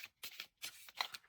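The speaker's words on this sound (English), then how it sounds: "So let's shuffle." Tarot cards being shuffled by hand in short, close, quiet bursts of riffling and sliding, with brief pauses between them.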